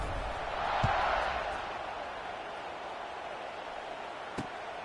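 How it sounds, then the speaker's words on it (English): A stadium crowd in the college football video game CFB26 buzzes with a soft, swelling roar, rising briefly then settling into a steady distant murmur, with a couple of sharp thuds. "this crowd is buzzing after that last score"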